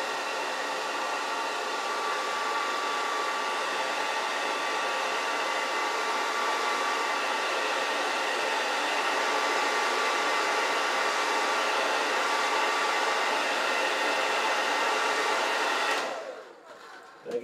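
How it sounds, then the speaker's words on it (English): A hair dryer on the hot setting roars steadily and loudly for a long stretch, warming Velcro adhesive on a guitar pedalboard, a constant airy blowing that cuts off abruptly near the end. "And you want your hair dryer to be on hot."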